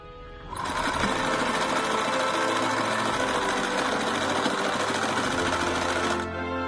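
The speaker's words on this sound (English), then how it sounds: "Shoulder sewing." A sewing machine stitching the shoulder seam of a bodysuit starts up and runs at high speed as one continuous, dense mechanical whir, close and loud, then stops.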